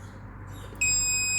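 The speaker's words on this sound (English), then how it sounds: "the buzzer will start ringing, the buzzer." An Arduino high-voltage warning buzzer suddenly starts after a quiet moment, giving a steady, piercing electronic tone that holds unbroken to the end.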